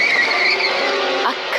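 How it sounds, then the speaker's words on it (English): A car skid sound effect, a steady loud tire screech sustained for over a second before a brief thud-like change at the end, alone without talk. "A car hit Pollyanna."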